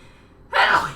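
A single close, loud sneeze bursts out halfway through after a quiet stretch of faint background hum, with no talking over it.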